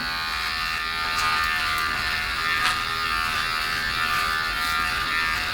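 A Manspot electric body trimmer buzzes steadily as it cuts body hair, a close, continuous high-pitched whir with light scratchy variations from the blade.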